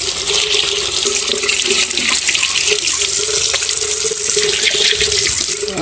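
Tap water runs steadily from a faucet to rinse and wash a wound during a basic first aid demonstration, a loud continuous splashing hiss that fills the whole stretch without pause or talk.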